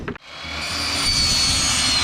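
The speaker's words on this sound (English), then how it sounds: "So what I'm going to do is I'm going to use my saw here." A hand saw cutting through PVC pipe for a homemade bait launcher, a steady close rasping stroke that starts after a brief knock and continues loud and alone.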